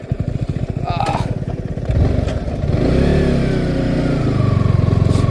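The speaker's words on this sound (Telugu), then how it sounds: "ఆడ బైక్ వెళ్ళిపోతుంది బాగానే." A motorcycle riding along a road near Araku Valley, its engine chugging and revving up close, with the pitch rising as it speeds away, and voices talking over it.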